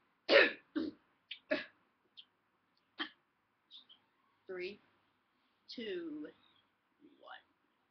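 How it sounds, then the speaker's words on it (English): A person gives a few sharp coughs and throat clears close to the microphone, followed by softer scattered vocal noises and short murmurs. "Hold on, let me cough."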